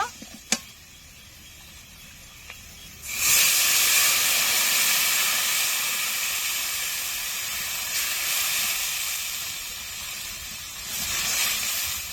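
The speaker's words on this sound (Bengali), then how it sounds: "এখন আমি জল দিয়ে দেব।" Water is poured into a hot pan of potatoes fried until red with cumin and red chilli powder. A sudden loud, broad hiss bursts out and keeps sizzling steadily for several seconds. Before it, a few faint clicks sound from the kitchen.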